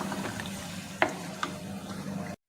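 Masala with yogurt, kasuri methi, green coriander and green chillies roasts in a pan, a soft low sizzle under scattered stirring scrapes and a couple of sharp spoon clicks, then abrupt silence.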